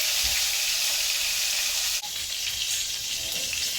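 Pieces of rohu fish frying in oil in a pan give a loud, steady, close-up sizzle throughout, broken once by a brief clunk as the pieces are turned.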